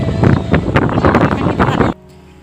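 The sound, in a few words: wind blowing outdoors at Kalamati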